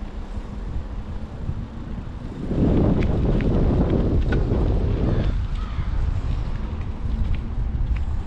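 Steady wind rushing past the microphone, a low broadband roar that swells louder after a few seconds and stays strong, with no voices.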